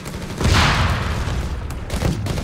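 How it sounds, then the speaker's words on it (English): A grenade detonates in the Company of Heroes 3 strategy game, a loud, close boom amid ongoing gunfire and battle noise. "Grenade coming in."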